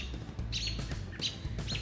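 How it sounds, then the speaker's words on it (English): Agitated songbirds chirp repeatedly at a hawk near a long-used nesting site, with sharp, fairly close calls about every two-thirds of a second over a steady outdoor background rumble. "But this is the first time I've seen the birds be angry like they are."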